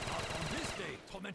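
Shotguns blast in rapid succession in a Call of Duty Black Ops 3 custom zombies map, with a voice talking over the gunfire.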